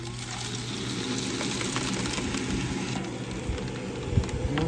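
A DeWalt power tool hums steadily after switching on, a continuous low mechanical whir with a faint watery, pump-like churn, moderately loud and close, with a small knock near the end.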